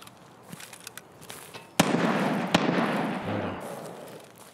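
Gunfire at the construction site on the Customs map in Escape From Tarkov, a few sharp, fairly distant shots cracking over rumbling ambient noise, followed by a lingering echoing tail.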